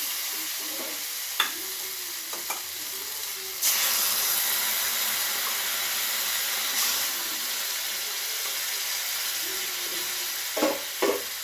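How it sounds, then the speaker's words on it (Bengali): Water poured into a hot pan of sautéed pumpkin raises a sudden loud, steady hiss and sizzle of steam partway through, following softer frying crackles with a few clinks of utensils; no one speaks. "এখন আমি জল দিয়ে দেবো।"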